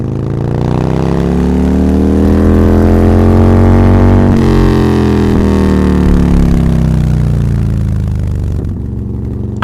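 A big motorcycle engine runs loudly and close by with a steady, heavy drone whose pitch swells and then eases back, ending in a brief rattle.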